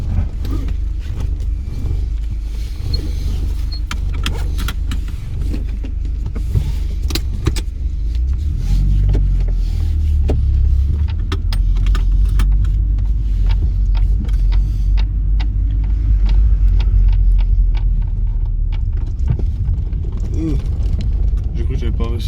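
Carbureted car engine running near, a continuous low rumble that grows fuller midway, with some jangling and clicks and a person talking over it.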